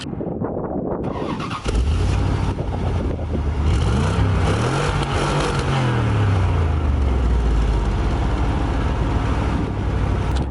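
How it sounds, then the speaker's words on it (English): A 1992 Chevrolet Corvette engine cranks and fires up, revs once with a rising and falling roar, then settles into a deep, steady idle close by. "Now let's actually turn this car on and see how it sounds."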